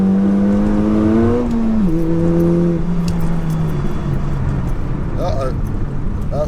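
A 607bhp SEAT Leon Cupra engine whines and drones as the car slides off a race track, pitch rising then falling and fading into rough tyre and gravel noise near the end.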